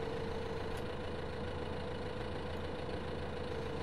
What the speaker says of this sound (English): Whoa, this is actually quite a nifty little tractor.